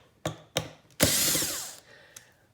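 A Torx bit driving screws out of a wheel assembly on a Shark Ion 761 robot vacuum, with a few short sharp clicks followed by a longer whirring burst of a powered driver and a final small click, close up and without talk.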